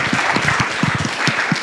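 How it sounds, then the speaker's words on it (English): An audience at a healthcare startup panel applauds, a moderate burst of steady clapping from many hands in a hall. "Can I get a huge round of applause for Trey and Akash?"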